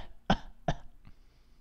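Two sharp coughs in quick succession, close and fairly loud, followed by a soft exhale in a quiet room, during an Undertale game playthrough.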